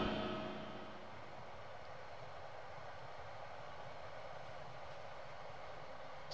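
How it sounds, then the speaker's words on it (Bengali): A long train rumbles past on the line toward Cox's Bazar, a steady faint wash of wheel and rail noise that stays even throughout without distinct clacks, no voices. "ভালোই তো ট্রেন যায় দেখতেছি,"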